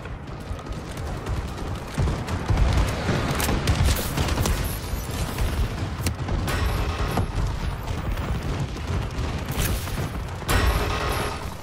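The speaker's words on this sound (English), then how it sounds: "Friendly bombing run clearing the way." Game combat from Call of Duty: Advanced Warfare on PC as a friendly bombing run hits, a dense continuous barrage of gunfire, booms and blasts with sharper impacts throughout.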